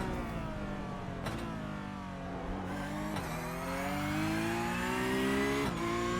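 A Porsche Cup race car laps the Spa circuit in a sim race, its engine revving hard through rising gear pulls with brief dips at each shift. The sound is loud and continuous, with no talk.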